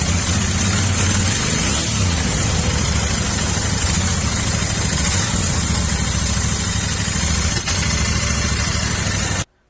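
A Royal Enfield Continental GT650 motorcycle, a used bike with very low mileage, runs at a steady, loud idle throughout, its engine drone continuous and close before cutting off abruptly at the very end.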